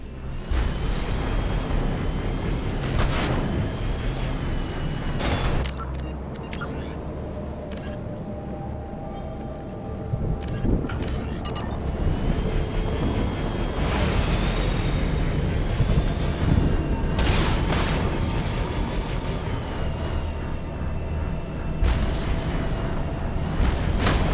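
Missile system firing in Mass Effect 2, a loud sustained barrage of booming launches and blasts with sharp bursts throughout, continuous dense rumble.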